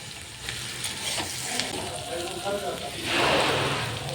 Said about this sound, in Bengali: এটাকে ভালো করে ভেজে নিলাম।